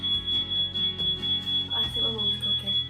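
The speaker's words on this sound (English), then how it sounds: "that's a fire alarm." A household fire alarm sounds continuously as a thin, high-pitched electronic tone, faint and steady in the background under a person talking, likely set off by cooking.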